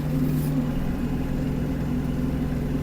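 A Kubota KL-33 Japanese mini tractor's diesel engine runs steadily while the machine turns, a low, even mid-range drone heard close by with no talk over it.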